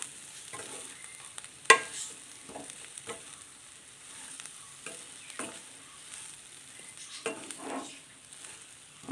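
Soya chunks coated in masala stirred in a hot pan for a Kerala-style vegetarian roast, with soft scraping strokes and a gentle sizzle at a steady, unhurried pace, plus one sharp clink of the utensil against the pan.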